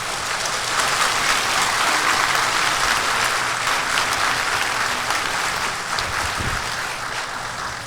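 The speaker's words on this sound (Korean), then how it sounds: "우리 목사님 올라오실 때 뜨겁게 박수로 환영해 주시기 부탁드립니다." A church congregation gives warm, sustained applause as the pastor comes up for a founding service, with dense clapping from a large crowd that goes on throughout.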